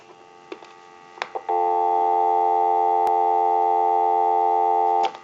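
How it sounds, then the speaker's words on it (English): Dial tone from a Mickey Mouse 210 trimline telephone, a loud, steady, close hum that starts after a few handling clicks and runs for several seconds before cutting off. "Go ahead and give you some dial tone."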